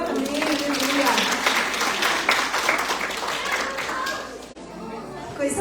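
A church congregation at a Saturday service claps together in a dense, sustained burst of applause mixed with crowd chatter and voices, fading out near the end.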